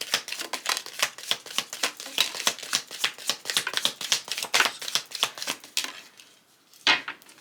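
Tea leaf fortune cards are shuffled by hand in a fast, close run of crisp riffling flicks, followed by a short pause and one last slap of the deck.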